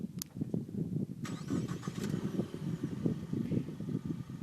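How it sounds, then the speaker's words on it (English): A 2015 Ford Mustang EcoBoost engine starts and then settles into a low, steady rumble. It is recorded at moderate distance with no talking. "Yeah, not quite the Mustang sound you were expecting"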